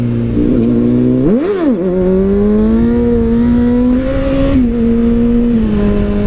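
A Honda CBR600RR sport motorcycle engine revs sharply while riding, climbing in a quick throttle blip before settling into a steady, loud drone that holds close and continuous to the end, with no talk.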